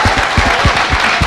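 Loud, dense applause from a live audience honoring a lawyer introduced on stage at a Korean talk event, with steady crowd clapping filling the whole moment.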